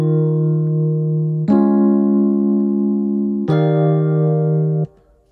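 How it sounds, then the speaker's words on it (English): Strummed synth chords from the Chord Pallet tool in Ableton Live 12 ring out in three sustained hits, each struck with a quick strum-like attack, ending abruptly. "you can adjust it, and it will adjust slightly so it sounds like a strum"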